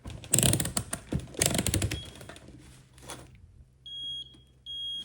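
A steady electronic multimeter continuity beep sounds twice near the end, each a sustained tone, following rustling and clattering handling noises while testing CNC machine wiring.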